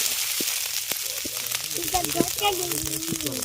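Ground spices sizzling and frying in hot oil while being stirred for banana flower cutlets, a close crackling hiss under intermittent clicks and a faint voice.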